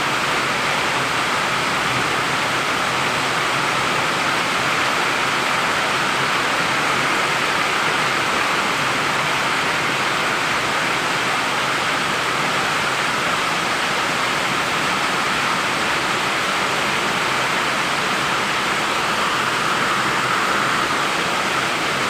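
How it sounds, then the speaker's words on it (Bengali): Heavy monsoon rain pours down in Malaysia, a dense, steady roar of rainfall that stays loud and unbroken throughout, with no voices. "এরকম অবস্থা বৃষ্টি পড়তেছে।"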